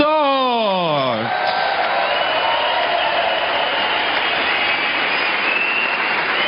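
A crowd at a snooker final in Berlin applauds the new champion, a dense and steady wash of clapping that swells after a short opening burst and carries on without letting up.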